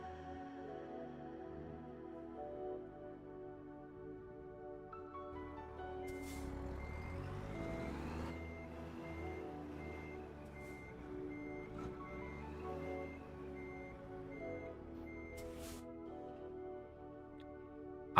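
A reversing truck sounds steady, evenly spaced beeps, faint and somewhat distant, over a low engine rumble with a hiss of air brakes, and no one speaks.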